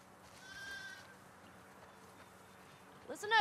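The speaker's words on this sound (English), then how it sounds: "Listen up, sheep. Your dinner awaits you in the barn, so come on." Sheep or goat bleats in The Last of Us Part II, one wavering bleat early on and a louder, closer bleat at the end, over quiet ambient farm background.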